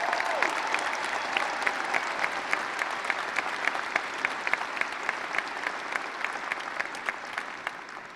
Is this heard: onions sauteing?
no